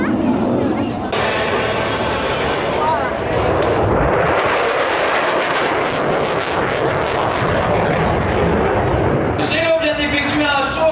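A Mirage 2000D fighter jet roars overhead on a loud low show-of-force pass at an air show in Tallard, its noise swelling and then fading, with voices and chatter at the start and end.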